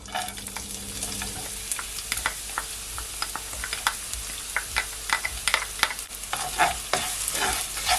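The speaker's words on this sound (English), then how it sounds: "So to my pot I'm gonna add my onions because my oil is already heated up." Onions dropped into hot oil in a pot sizzle and crackle steadily, with sharp spattering pops and stirring clatter building over eight seconds, close and fairly loud, no talking.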